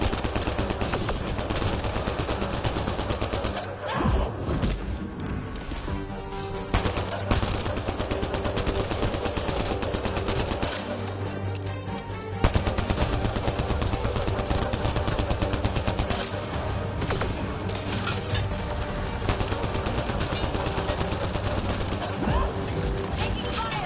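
Dense, continuous machine-gun and rifle fire from a firefight in Mass Effect Andromeda, loud and relentless across the whole stretch, with voices calling out beneath the shooting.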